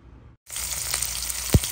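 Garlic, onion and ginger sizzle in a hot pan with oil, giving a steady close frying hiss with a soft stirring knock, heard alone after a brief silent gap at the start.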